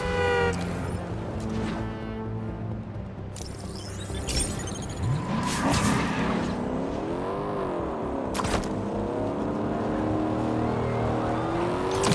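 A car driving in the Spider-Man 2 video game, its engine revving and rising in pitch, loud and steady throughout with passing whooshes and brief crash-like hits.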